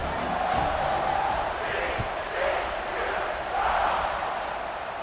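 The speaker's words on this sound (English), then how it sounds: "this crowd is buzzing after that last score" A stadium crowd roars in a football video game, a dense, continuous buzz of cheering that rises and falls, heard close and loud.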